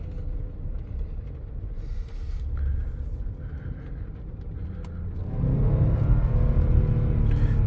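A Range Rover engine pulls under acceleration while driving in first gear after a misfire repair, a steady low rumble that swells louder and fuller partway through, close and continuous with no talk.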